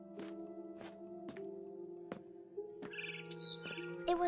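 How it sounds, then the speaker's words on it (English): A barn swallow chirping outside a window in a video game, several short bright chirps spaced over a steady low hum, followed by a quicker twittering burst near the end. "It was a barn swallow going back to her nest."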